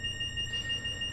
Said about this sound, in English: annoyingly deal with this alarm until we nicely stop this train and hopefully fix the fault.